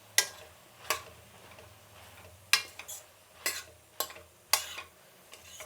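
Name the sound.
stirring curry with curry leaves and coriander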